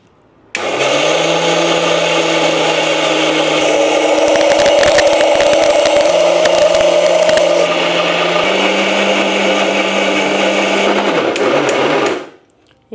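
A mixer grinder whirs loudly as it grinds soaked rice and urad dal with water into idli batter, starting abruptly and running steadily for about eleven seconds with shifting motor pitch before spinning down, with no talking.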